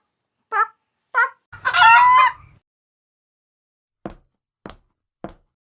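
Several short bird calls, then a longer rising crow-like call, followed by three sharp, brief clicks, each sound isolated against silence and fairly close.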